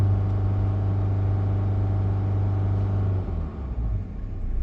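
Chrysler Voyager diesel engine held steady at 3000 RPM, a loud continuous low droning hum that stays level, then wavers and dips slightly near the end; no talking.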